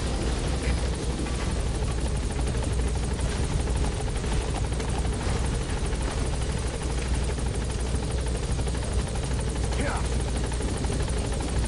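A helicopter hovering near a landing zone in Metal Gear Solid V: The Phantom Pain, a continuous loud rotor drone filling the scene, with radio-style speech over it.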